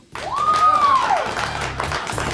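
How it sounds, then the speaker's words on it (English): Studio audience of a 1998 live call-in TV talk show clapping, a steady wash of applause filling the clip, with a rising whistled synth tone from the show's music sting sweeping over it. "More clapping."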